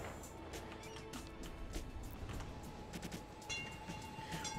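A subway train rolls past in the Cities: Skylines city-building game, a steady low rumble with rhythmic clicking of wheels and a faint sustained tone, moderately quiet and continuous throughout.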